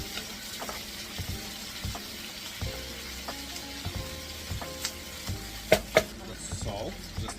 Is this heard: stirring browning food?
yes